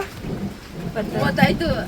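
Rain falling steadily in a village, a brief wash of patter with people talking over it.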